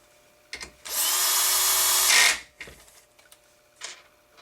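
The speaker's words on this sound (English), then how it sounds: "Now we're going to go ahead and insert our third and our fourth screw." Power drill driving screws while building an HPI Baja SS model car gives one close, loud, steady whir lasting about a second and a half, followed by small knocks and handling sounds.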